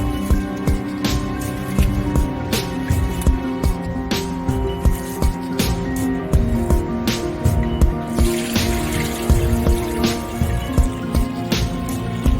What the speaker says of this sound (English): First, we'll rinse the rice thoroughly to remove excess starch,